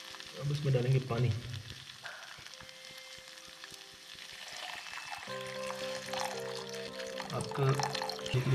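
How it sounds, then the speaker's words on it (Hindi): Water pours into a hot pot with sizzling and hissing, steady for several seconds, while a voice talks over it. "अब इसमें डालेंगे पानी।"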